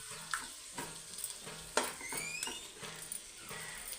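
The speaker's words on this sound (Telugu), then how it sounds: "చేపలు అయితే నూనెలో మగ్గినాయండి" Fish sizzling in hot oil with a steady crackle, punctuated by occasional scrapes and stirring clinks close by.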